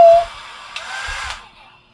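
A hair dryer blowing at home, a steady airy rush that rises after a short tone and then fades away, close and moderately loud.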